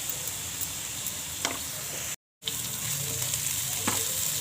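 Chopped onion sizzles and crackles steadily in a hot pan, a close, even frying hiss with occasional stirring ticks and a brief moment of silence in the middle.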